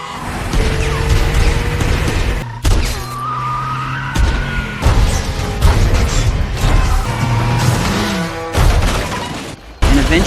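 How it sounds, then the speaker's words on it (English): Car chase with repeated crashes: screeching tires, engine roar and loud metallic smashes and shattering glass arrive in abrupt bursts separated by short gaps, loud and close, with no talk. "Ethan gave chase, crashing repeatedly."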